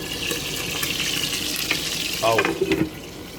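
Chicken pieces fry in a pan for an akbar joojeh-style stew, a close, steady sizzle with a brief clatter of movement near the end.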